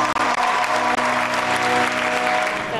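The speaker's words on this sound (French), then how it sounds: "Pendant 2 heures, le public a applaudi." Sustained, dense applause from a theatre audience at the Folies Bergère fills the whole stretch, loud and steady, close and enveloping with no voices rising above it.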